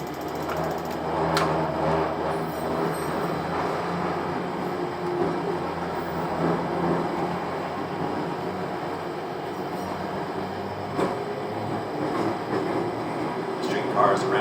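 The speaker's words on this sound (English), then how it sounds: "It is a train, for all intents and purposes, running on steel wheels on standard gauge" A Little Rock Metro streetcar runs on steel wheels along standard-gauge steel rails, a continuous low rolling rumble with faint clicks and rattles from inside the cab.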